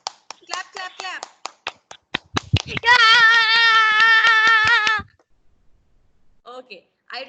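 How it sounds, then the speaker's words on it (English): Children clap their hands in an online kindergarten class, a quick run of sharp separate claps followed by a sustained voiced tone, then a few scattered claps and faint voices. "Clap for yourself."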